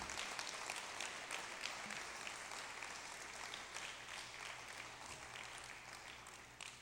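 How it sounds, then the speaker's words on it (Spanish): Congregation applauding in a church service, a steady wash of many hands clapping that carries on evenly for several seconds, with no voices standing out above it. "yo esperaba un aplauso"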